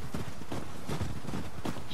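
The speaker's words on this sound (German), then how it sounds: "Da kommen die Pferde." Horses approaching in The Last of Us Part II, a steady run of heavy hoof clip-clops thudding in rhythm at close range, with no talk over them.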